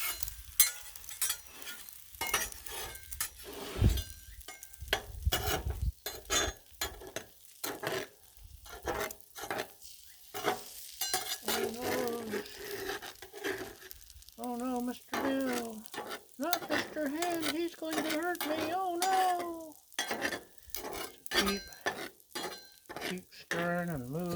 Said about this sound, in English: Ooh, we got eggs on the griddle.